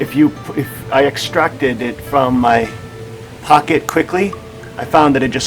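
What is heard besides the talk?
No distinct noise like a dog, phone or traffic.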